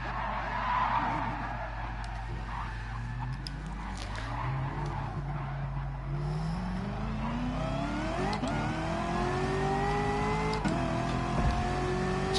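A Ferrari race car in a PS4 racing game accelerates hard, its engine pitch climbing through repeated gear shifts over steady road roar, with brief tire skids near the end.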